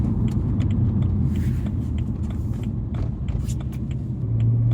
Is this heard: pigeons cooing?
no